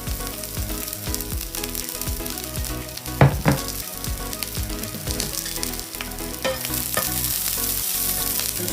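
Onions, garlic shoots and mushrooms fry for yakisoba in an oiled pan, giving a steady, close sizzle broken by a few sharp stirring clatters and scrapes, with no one talking.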